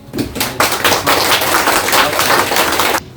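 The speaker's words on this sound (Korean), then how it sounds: "큰 박수 부탁드립니다." An audience at a book talk for a Korean essay collection breaks into loud, dense applause that swells quickly, holds steady for a couple of seconds, then cuts off abruptly.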